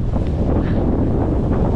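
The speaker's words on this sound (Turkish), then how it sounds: "Felaket rüzgar var." Strong wind buffets the microphone with a loud, continuous low roar and no voices.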